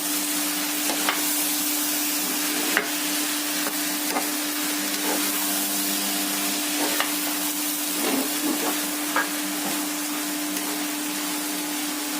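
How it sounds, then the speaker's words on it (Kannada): Rice sautés in a spiced tempering in a pan for moong dal bath, giving a steady close hiss and sizzle broken by occasional scraping stir clicks. No one speaks. "ಒಗ್ಗರಣೆಲಿ 1 ನಿಮಿಷ ಅಕ್ಕಿನ ಬಾಡಿಸ್ಕೊಳ್ಳೋಣ."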